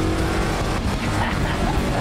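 A car races down a street at speed, its engine roaring steadily while tires squeal and skid, the noise loud and continuous throughout with no pause.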